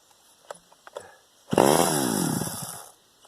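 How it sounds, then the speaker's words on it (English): A STIHL 009L chainsaw, being revived, fires up after a few faint pull-cord tugs and runs loudly with a rough, revving two-stroke drone for about two seconds before tapering off. "Well, it fired. It will run. It will come back to life."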